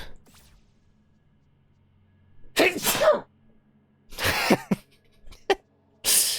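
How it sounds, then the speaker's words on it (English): A person sneezes several times up close, loud sharp bursts separated by near silence, with a quick throat sound between them. "Gotta send it off with a sneeze"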